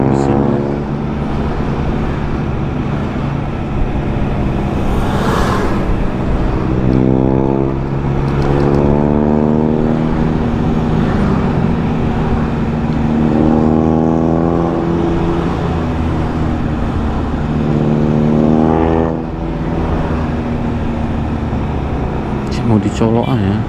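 A Mitsubishi L300 van engine runs steadily with a loud, droning rumble whose pitch rises and falls as it revs, close and continuous under ongoing talk.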